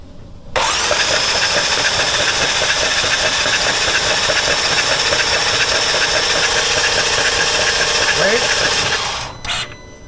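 A BMW M4 engine cranks steadily on the starter for about nine seconds during a compression test, with cylinder 4 blowing out, a loud continuous whirring churn that cuts off abruptly near the end.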